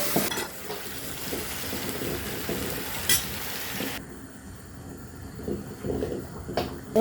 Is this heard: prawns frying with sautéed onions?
yes